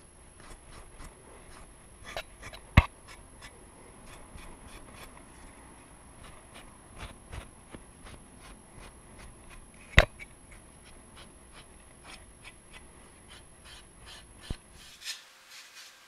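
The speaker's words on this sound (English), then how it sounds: "just kind of give it a rub right there, and it'll break the color off the top right there" Quiet, rhythmic rasping strokes rub over a coffee-stained deer antler to break color off its surface, close and soft, with a few sharper knocks between passes.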